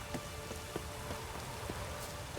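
Rain in the video game The Witcher 3: Wild Hunt, a dense, steady downpour hissing on surfaces with scattered louder drop impacts, close and continuous with no speech.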